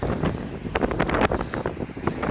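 Wind gusts across an Appalachian Trail section near Interstate 77, producing a rough, continuous roar and close buffeting with irregular surges.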